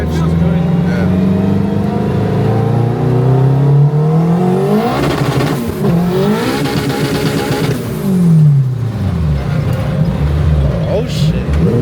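A 1000-horsepower all-wheel-drive Honda Civic on boost accelerates hard through the gears on a street pull, its engine rising in pitch, dropping at each shift and climbing again, loud and close, with people talking over it.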